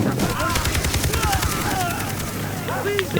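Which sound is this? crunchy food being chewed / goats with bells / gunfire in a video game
gunfire in a video game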